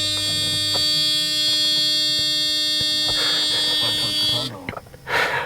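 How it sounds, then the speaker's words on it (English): A steady electronic key-in-ignition warning buzzer in a Mercedes-Benz W140 S-Class drones continuously for several seconds, then cuts off, followed by brief rustling and a short burst of noise. "We've got the old Mercedes buzzer"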